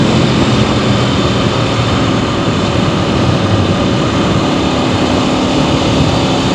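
A 2026 Aprilia RSV4 Factory engine roars steadily under throttle, a loud, continuous broadband drone with wind rush that holds constant throughout, no voices heard.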